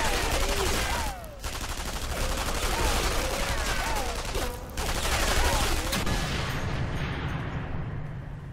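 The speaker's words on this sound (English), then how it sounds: "Am I shooting the fucking wall?" Sustained gunfire from the sniper video game Sniper Elite 3 crackles steadily for several seconds, dense and loud, dipping briefly twice before resuming.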